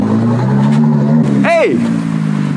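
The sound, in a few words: 660 hp Nissan GTR engine starting and revving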